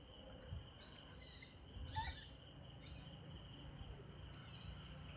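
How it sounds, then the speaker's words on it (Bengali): An owl calls at night in a garden, a few short, shrill cries spaced across several seconds against a steady bed of crickets and insects. "পেঁচা ডাকছে।"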